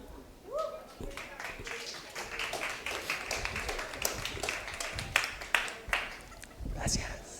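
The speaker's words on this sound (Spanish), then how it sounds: "Vamos a recibir entonces con un fortísimo aplauso este segmento" An audience claps at a live storytelling show, with scattered, fairly faint hand claps that build after a brief voice at the start and continue unevenly to the end.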